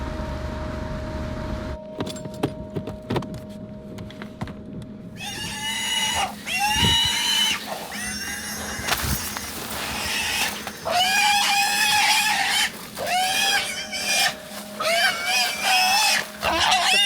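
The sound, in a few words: pig caught while hunting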